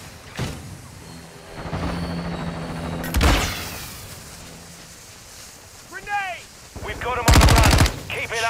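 Gunfire in Call of Duty Modern Warfare II on PS5: a few sharp shots and short bursts of automatic fire, with a loud rapid volley near the end, mixed with game sounds and players talking.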